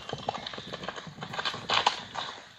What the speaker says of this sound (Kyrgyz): өтө келишкен ат экен